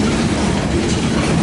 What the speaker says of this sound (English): we're just catching 105 right now while we wait for the grain train